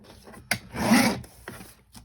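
Paper trimmer blade slicing through sheets from a Christmas paper pad, a short rasping cut after a sharp click, with a few lighter taps and scrapes around it, close and fairly quiet.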